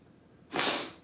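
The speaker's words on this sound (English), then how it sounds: "Excuse me for sniffing people" One sharp, breathy sniff drawn in through the nose, close and brief against a quiet background.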